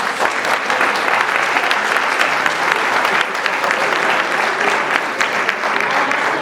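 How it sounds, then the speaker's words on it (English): Sustained, dense audience applause fills a mayoral debate hall in Durham, steady and loud for the whole stretch with no break. "Let's please give our candidates another round of applause."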